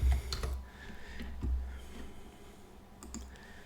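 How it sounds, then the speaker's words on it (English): Several quick keyboard clicks near the start as someone types a program name into a computer search field, then quieter scattered taps over faint room noise. "I'll just type it in here,"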